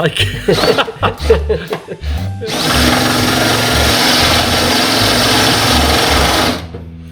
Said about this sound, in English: That's a Sykes Pickavant spot weld cutter.